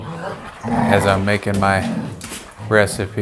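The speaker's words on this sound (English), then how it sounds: "I got two golden retrievers having some fun in the background here." Two golden retrievers play in the background, growling and grumbling in short bursts beneath a person talking in a kitchen.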